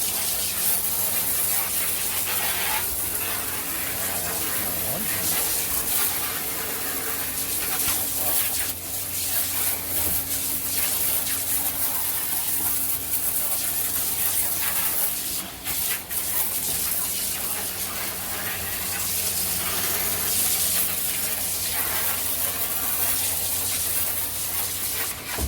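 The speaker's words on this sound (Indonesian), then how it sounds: "Semprot air dulu biar ngalir airnya." Water spraying onto a tilapia fish pond in Palembang to push the water flowing, a steady broad hissing gush that runs unbroken and close for the whole stretch, with a low hum underneath.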